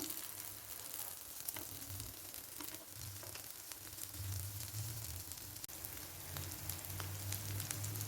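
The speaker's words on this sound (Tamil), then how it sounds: "இந்த பக்கமும் நல்லா ஃப்ரையாக விட்டுக்கலாம்." Sweet potato cutlets fry in a pan on a low flame with a steady, soft sizzle and fine crackling throughout. The sizzle is close but quiet, and no one speaks.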